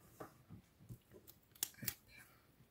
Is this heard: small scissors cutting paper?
yes